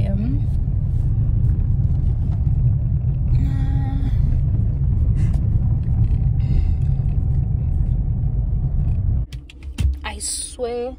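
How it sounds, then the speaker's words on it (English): Car on the road with a steady low rumble from wheels that seem badly made, continuous and close before easing off near the end, with voices talking over it. "I swear the wheels of this car were just not made right."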